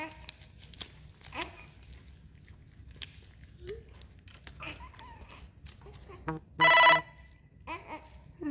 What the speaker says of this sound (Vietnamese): Chả hiểu máy anh dạo này còn kêu cái âm thanh gì nữa vậy. Chắc tin nhắn quá.